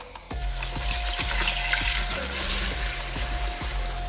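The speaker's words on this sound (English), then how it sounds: "So we're gonna get ready to drop that into our oil." Breaded chicken thighs frying in hot oil make a loud, steady, close sizzle and crackle that starts abruptly and continues throughout, with a faint hum underneath and no talking.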